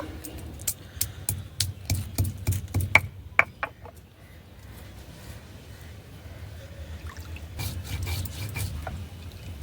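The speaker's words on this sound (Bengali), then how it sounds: "এখানে নিয়েছি দারচিনি, এলাচ, লবঙ্গ একসঙ্গে বেটে নেব।" Cinnamon, cardamom and cloves are ground together into a garam masala paste with a series of close scraping and knocking strokes, then a softer steady grinding rub, no talk.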